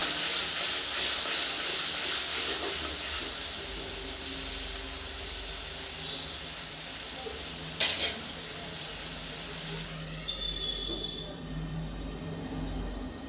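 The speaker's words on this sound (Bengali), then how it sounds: "মশলাটা আমি কষিয়ে নিব" Spice paste of turmeric and Kashmiri red chilli powder frying in oil over low heat for a hilsa and aubergine curry, a steady soft sizzle and hiss throughout with a few brief stirring scrapes near the middle.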